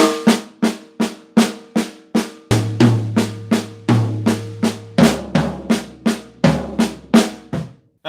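A drum kit plays a steady, fast, repeating flam lick, the left hand on the snare while the right hand moves to a new drum at the start of each phrase, so low tom tones shift beneath the snare strokes, close and with no talk.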